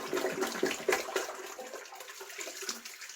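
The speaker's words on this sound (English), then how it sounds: "So I'm going to rinse all that out." Running water splashes and trickles unevenly while shaving cream is rinsed off a face, a short, soft, close wet sound with no talking.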